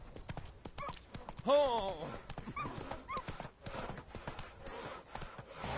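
Horse hooves clip-clop in The Witcher: Wild Hunt, a busy run of hoofbeats under a voice, with a louder burst near the middle.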